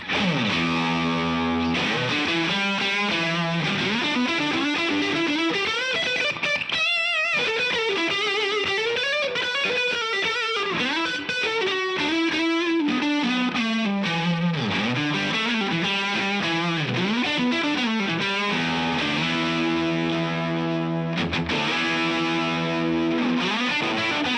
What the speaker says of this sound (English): And we'll really use the drive section of this pedal, and you'll hear how that sounds